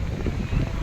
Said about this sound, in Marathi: वारा जास्त आहे